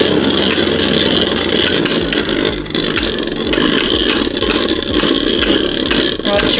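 Dragoon and Draciel Beyblades spin and clash in a defense-versus-attack test battle, giving a loud, dense, continuous whirring grind with rapid metallic ticks throughout.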